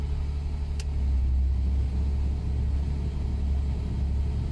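A Pontiac Fiero engine idles steadily with a low, continuous rumble, close by, no voices.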